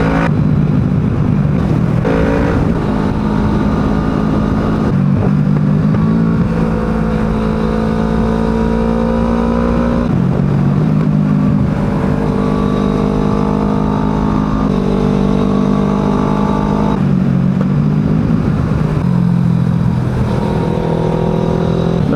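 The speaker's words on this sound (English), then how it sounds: "Oh, a lot of traffic at the end of this section." Continuous loud engine drone of road traffic in Croatia, with camper vans passing close in repeated waves of rising and falling motor tone and no talking.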